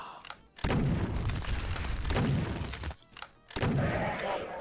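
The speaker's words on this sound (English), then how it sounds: "So let's go ahead and blast them with our super shotgun." Heavy double-barrel super shotgun blasts in DOOM, firing at an arch-vile, sounding as loud, booming full-band bursts with a brief gap between shots.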